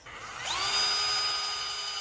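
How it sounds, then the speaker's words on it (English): A power drill countersinks nuts into a log garden bench, its motor whining up to speed and holding a steady high-pitched drone for about two seconds, close and alone. "We're using the drill to countersink the nuts below the surface so that they won't stick out and catch our elbows."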